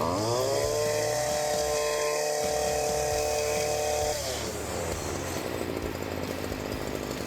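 A small two-stroke engine on a STIHL FS40C gas string trimmer runs loudly up close, whining at high pitch before dropping to a rougher, erratic, uneven idle.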